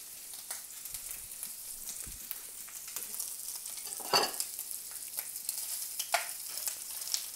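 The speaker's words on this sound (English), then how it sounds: "It's such a good sizzle." Bacon sizzling in a frying pan while making a breakfast burger: a steady, close crackle of hissing fat with scattered pops and occasional louder spits, heard alone without talk.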